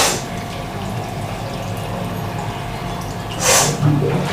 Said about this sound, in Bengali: এতে আমি একটু জল অ্যাড করে দিচ্ছি।